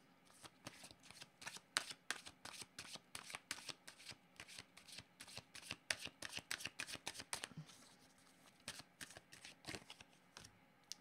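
Tarot cards being shuffled by hand, a dense run of quick papery riffles and snaps that carries on steadily and close, with no voices.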